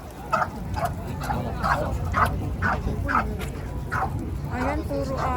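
Several dogs bark in a busy outdoor crowd at a Kobe harbor shopping area during Golden Week, a run of short sharp barks spaced about half a second apart over background chatter and people talking.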